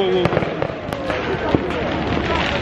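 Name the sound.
New Year fireworks in Bucharest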